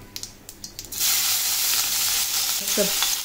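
Chopped onion, ginger and garlic hit hot oil with a sudden loud sizzle after about a second, then fry in a steady hissing crackle, with a few faint clinks before the onion goes in.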